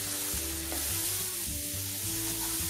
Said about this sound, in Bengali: মশলাটা আমি 2 মিনিট ধরে কষাতে থাকব।